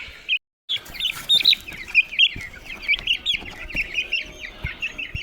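Chickens cluck and chatter continuously at close range, with a rapid series of short, bright calls and occasional louder squawks.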